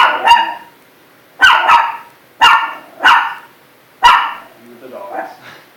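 Dogs bark in sharp, loud bursts nearby. About five barks come in uneven succession, some doubled, and a fainter, softer yelp follows at the end.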